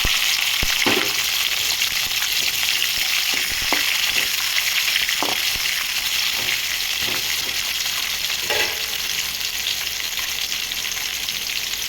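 Chopped onion pieces sizzle steadily in a hot pan for a Telugu-style cluster bean and coconut fry, a dense continuous frying hiss with occasional soft stirring clicks and scrapes.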